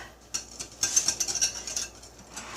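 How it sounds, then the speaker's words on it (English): A spoon scrapes and clinks against a bowl while vegan cashew gravy ingredients with onion powder are stirred, a quick series of light metallic taps and scrapes, close and fairly quiet. "And we're going to kind of mix that all up"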